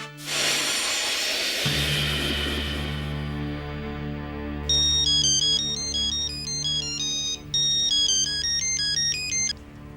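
Electronic phone ringtone chiming for an incoming call, a bright repeating melodic tone pattern that plays loud and clear over a steady low sustained background music bed, without any talking.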